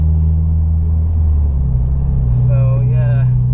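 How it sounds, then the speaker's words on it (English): A Honda Civic Type R EP3 cruises along with a steady low engine drone and road rumble from inside the cabin, the tone shifting slightly as the car changes speed. "say a goodbye to the Civic Type R last drive"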